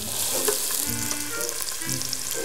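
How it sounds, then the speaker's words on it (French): Onions sizzling and frying in hot olive oil in a pan, a steady bright hiss with light stirring scrapes, close and continuous with no talk. "On va commencer par y verser les oignons. Voilà, bien les faire revenir."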